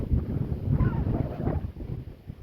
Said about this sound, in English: Quite liking this wind as well blowing into here.